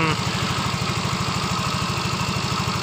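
A Yamaha Mio Fino scooter engine runs loud and close, its low pulsing beat rough and uneven as it stumbles and hesitates under throttle when hot.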